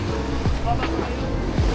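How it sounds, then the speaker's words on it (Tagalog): Strong ocean waves off Bantayan Island, Cebu, a continuous rumbling wash of surf with wind noise, heard close with a voice talking briefly over it. "sa lakas ng alon"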